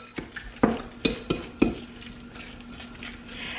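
Salmon patty mixture is stirred in a bowl, a series of sharp scraping and clinking strokes, about five distinct hits close up with a faint background hiss between them.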